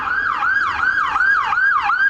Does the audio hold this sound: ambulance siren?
yes